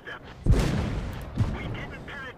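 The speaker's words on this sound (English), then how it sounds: "So I'm shooting, I switched to gold now to shoot at these guys." Tank cannon shots in World of Tanks, two sharp booming blasts about a second apart over a steady rumbling battle bed, fired with premium gold rounds from an AT2 tank destroyer.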